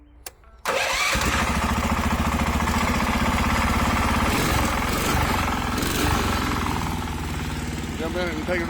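A go-kart engine catches after a quiet moment and roars into a loud, steady, close running rumble that eases slightly toward the end.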